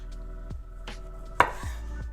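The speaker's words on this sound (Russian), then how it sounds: "Я режу крупными кубиками, такими же, как мясо." Knife chopping a soft roasted carrot into large cubes on a cutting board, a few distinct close chops spaced out over a couple of seconds with faint kitchen ambience.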